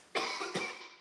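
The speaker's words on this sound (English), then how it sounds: "Very difficult to smoke when it makes me cough" A single harsh cough bursts out loud and close, followed by a second, weaker cough that trails off, from a smoker whose throat is irritated.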